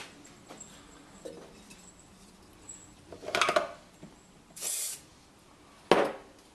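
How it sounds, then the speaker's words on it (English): A few short hissing bursts of silicone aerosol spray onto a Poulan weed trimmer's gas line, close up, separated by small clinks and handling noises. "I'll spray the gas line itself with a little bit of silicone"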